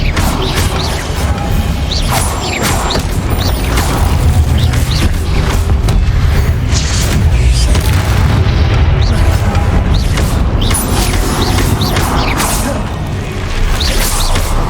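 Spells are cast during a boss battle in Hogwarts Legacy, with continuous loud booms, crashes and whooshes packed densely together across the whole fight.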